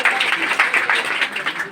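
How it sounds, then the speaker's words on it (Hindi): Applause for a student at a village results ceremony in Madhubani, Bihar: a crowd claps loudly and steadily in a quick, dense patter with no talk heard over it. "इनके भी एक जोरदार तालियां।"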